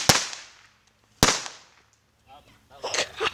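Two firecrackers go off outdoors, each a sharp, loud bang followed by a short decay. Quieter rustling and voices follow the blasts.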